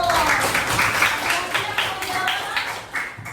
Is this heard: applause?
yes